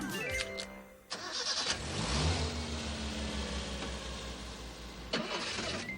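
An older car with hydraulic valve lifters cranks briefly, then its engine catches and roars up in a loud rev before settling into a steady, rumbling run close by.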